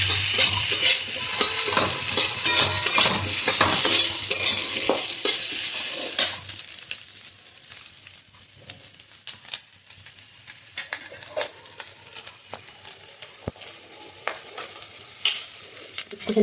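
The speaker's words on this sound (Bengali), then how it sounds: "মশলাটার সঙ্গে ডিমটাকে ভালো করে কষিয়ে নিচ্ছি।" A spoon stirs fish roe and egg mixture with spices in a hot pan, giving a steady close sizzle and frying crackle with scraping stirs that thin out into sparse pops and clicks.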